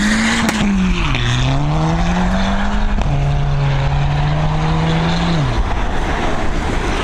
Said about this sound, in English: That was Damo with his pop and bangs